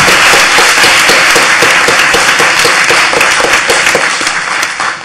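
Loud, close applause from a conference audience honoring panelists, dense individual claps blending into a steady roar that eases slightly toward the close.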